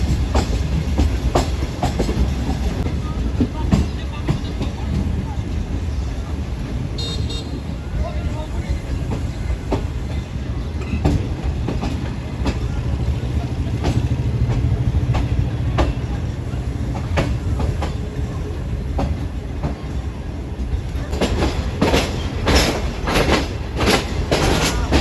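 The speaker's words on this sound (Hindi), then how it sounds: "तो मोड़ काटते हुए हमारी ट्रेन" The Shalimar Express rolling through a bend near Lahore Junction, a steady rumble with rhythmic wheel clicks over rail joints and sharper metallic squeals from the wheels near the end, heard continuously from on board.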